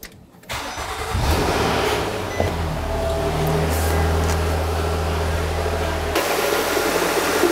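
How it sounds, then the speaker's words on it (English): A 2009-2014 Nissan Maxima, just fitted with a new steering rack, cranks and starts close by, then settles into a steady, even idle with a low hum. "we're gonna start the car up"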